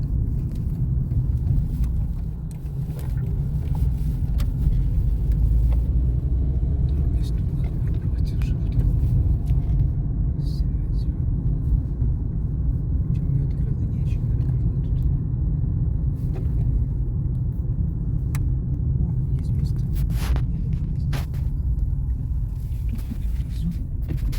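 A car drives slowly through a busy Dnipro city centre, its engine a steady low rumble that continues throughout, with faint street noise and occasional low voices underneath.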